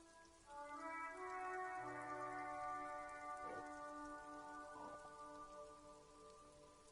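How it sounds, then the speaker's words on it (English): Steady rain falls over a city in the video game Disco Elysium, a continuous wash of drops on surfaces with a calm, even texture, accompanied by sustained tonal music in the background. "Rain drips from the eaves and floods the gutters,"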